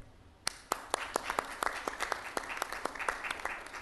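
Audience at a medical symposium on colorectal cancer bursts into applause for a speaker and his cancer institute, starting after a brief pause and building into steady, dense clapping in a large hall.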